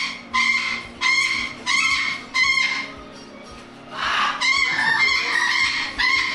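An African grey parrot calling in a bird park, giving loud, repeated harmonic squawking calls in separate bursts, then a longer, busier run of calls near the microphone with no talk over them.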